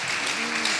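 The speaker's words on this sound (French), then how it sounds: "un tonnerre d'applaudissements" A conference audience gives brief, dense applause, a steady wash of clapping with no individual claps standing out.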